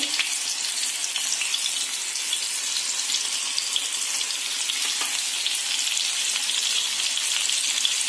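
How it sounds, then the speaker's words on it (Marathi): Bombay duck (bombil) fish frying in a pan on medium heat: continuous close, hissing sizzle with fine crackles throughout, steady and even with no talk. "मीडियम गॅसवरतीच आपल्याला बोंबील फ्राय करून घ्यायचे."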